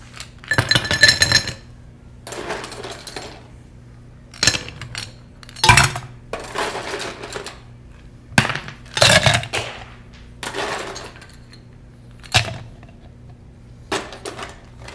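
Ice cubes clinking and rattling inside a glass or copper mug as it is chilled for a Moscow Mule, bright glassy clinks in repeated irregular bursts, close and clear, with no speech.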